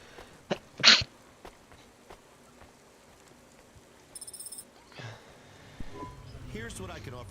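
A single loud, sharp sneeze bursts out near the start. Quieter game sounds follow: soft chimes, a short run of electronic tones and some murmured voice activity.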